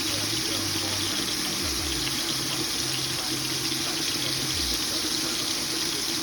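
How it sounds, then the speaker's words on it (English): Tap water runs steadily into a sink as hands are washed after handling hot peppers, a continuous close splashing hiss with a low hum underneath. "I need to wash my hand immediately after doing this"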